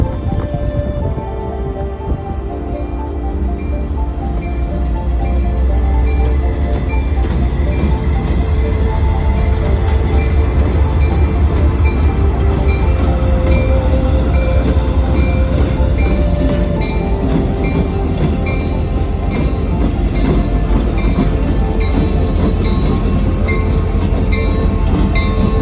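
Canadian National's Rainier to Proctor local freight train rolls past, a steady loud low rumble with wheel clatter and rail noise sustained throughout, fairly near.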